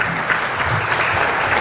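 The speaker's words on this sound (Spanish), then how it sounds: "Aplausos para él." An audience at a national day event for people with disabilities applauds a congressman, steady dense clapping filling the room throughout.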